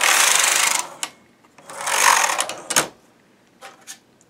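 A knitting machine carriage is pushed across two rows during pile knitting, giving two long raspy sliding passes close by, each ending in a clack, followed by scattered small clicks of needles and fittings.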